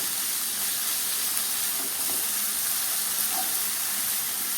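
Fenugreek leaves sizzling as they sauté in oil, a constant close hiss with faint stirring touches, steady and loud with no voices.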